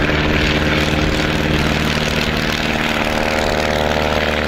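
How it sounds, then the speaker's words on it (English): A Super Cub light aircraft practising short takeoffs and landings runs its propeller engine in a steady, even drone, close and continuous throughout. "Joe Pop Story showed up and started practicing STOL, short takeoffs and landings. And boy, that Super Cub of his is really capable of doing them."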